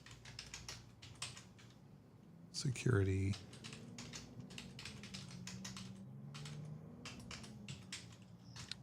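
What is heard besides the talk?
typing on a mechanical keyboard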